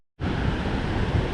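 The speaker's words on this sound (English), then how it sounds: "we're now just quickly back on the beach because it's very windy" Strong wind buffets the microphone on a beach at sunset at Wilsons Promontory, a steady, loud roaring rush that starts abruptly and continues without pause, with no voices.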